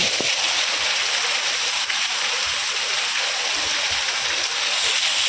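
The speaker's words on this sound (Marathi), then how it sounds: "आता तर एकदम जोरदार पाऊस लागलेला आहे आणि बरोबर पावसाला सुरुवात झालेली आहे" Heavy rain pours down in a steady, dense roar of falling water, loud and unbroken throughout with no voices.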